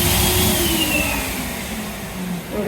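A hand dryer blows with a loud, steady whoosh in a Bangalore airport toilet, close by and continuous, with a slight shift in pitch as it runs.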